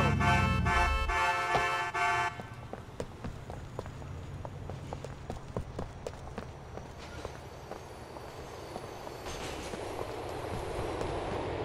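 An elevated subway train at Coney Island, Brooklyn rolls along, a steady rumble with a rhythmic run of clicking wheel joints and a rising squeal toward the end, after a brief loud tonal burst at the start.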